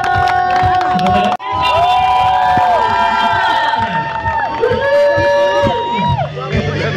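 Wedding reception guests cheer and shout together in a loud, continuous crowd roar, with whoops and children's voices mixed in and a brief dropout just before it swells again.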